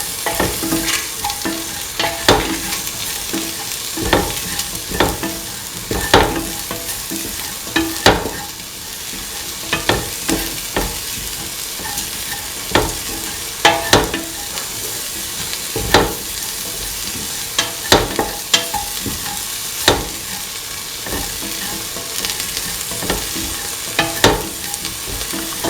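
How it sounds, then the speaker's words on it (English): Garam masala and spice mixture being stirred and fried in a pan for an ivy gourd and green pea stew, with a steady sizzle throughout and repeated sharp scraping knocks of a spoon at irregular intervals. "Mix your spices thoroughly with the rest of the mixture."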